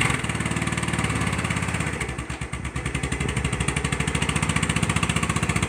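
A lawn mower engine runs close by with a fast, steady chugging pulse and a rough mechanical rattle. It stays loud and even throughout, with no voices over it.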